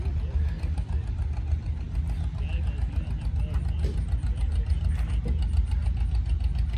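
A low, steady diesel engine idle from an Argentinian-built John Deere 830 industrial tractor chugs along with a rough, even rumble, close by, with faint voices and activity in the background at a heritage tractor show.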